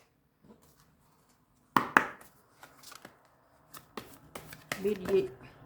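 Tarot cards being shuffled and drawn for a reading, giving a run of soft riffling and sharp card snaps, close and moderately loud, with a few quiet pauses between bursts.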